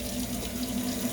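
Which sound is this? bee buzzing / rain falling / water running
water running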